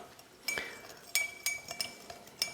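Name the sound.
stirring sugar in a mixing glass for an Old Fashioned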